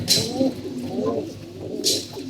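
Pigeons kept in pairs in a loft coo softly and repeatedly in low rolling phrases, with brief sharper bird calls at the start and near the end; no talk.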